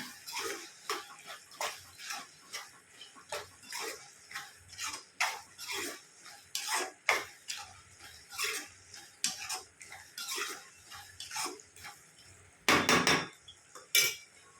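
A spoon scrapes and clinks rhythmically in a pan, roughly once a second, as coriander is stirred into ridge gourd curry, with a louder cluster of scrapes near the end.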